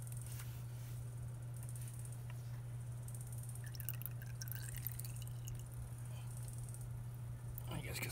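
Engine oil drains from a Honda Monkey during its first oil change, a steady liquid trickle and drip into a pan under a constant low hum, with faint voice in the background.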